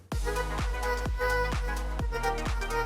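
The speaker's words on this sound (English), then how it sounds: "Here is the unmastered version of the song." The unmastered mix of an electronic song plays with a punchy kick drum landing on a steady beat under sustained synth tones, fairly quiet and dull in the highs.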